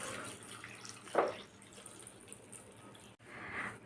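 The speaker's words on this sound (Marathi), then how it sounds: "शेंगा धुवून घ्यायच्या आहेत। तर शेंगा आपण धुवून घेऊया।" Tap water runs steadily over drumstick pods being washed in a kitchen sink, a constant moderate splash with a brief louder gush of handling midway and a short break before the flow resumes.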